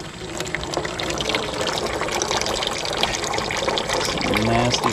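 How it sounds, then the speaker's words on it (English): Water-contaminated oil drains steadily from a jet ski engine after years underwater, a continuous close liquid trickle and pour with faint clatter throughout. "Lots of water in that oil."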